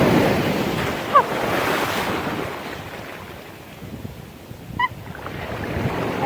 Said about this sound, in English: I love the waves here.